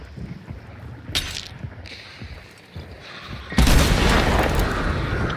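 An explosive barrel blows up in Hunt: Showdown, a heavy booming blast that suddenly fills the sound and rolls on loudly after scattered thumps, footsteps and earlier distant shots.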